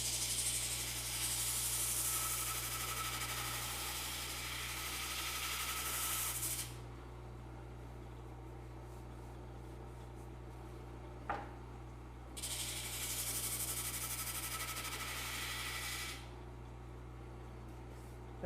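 A pneumatic drum sander with a partly deflated drum and 100-grit paper hums steadily as a guitar body edge is fed against it, bringing two long stretches of loud abrasive rubbing with a quieter motor drone between them.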